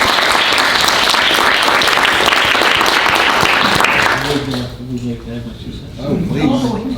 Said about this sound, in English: Can we give Tracy a round of applause?